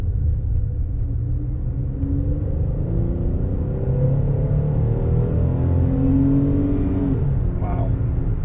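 A 2002 car's engine revs up and down in several rising and falling sweeps, loud and close, with a steady low rumble underneath and no talking.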